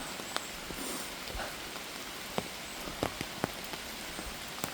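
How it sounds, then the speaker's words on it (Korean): Steady rain pattering on an open umbrella during a walk on a mountain trail in Seoul, Korea, a dense close hiss with scattered sharper drops tapping the canopy, no voices. "비가 와서 이렇게 가까운 데서 우산을 받치고"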